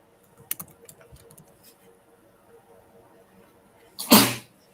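A single loud, sharp sneeze bursts out near the end after a quiet stretch with a few faint clicks.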